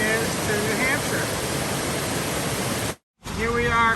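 Steady broadband rush of a waterfall near the Appalachian Trail on the way into Hanover, New Hampshire, loud and continuous with a brief dropout, while someone talks over it.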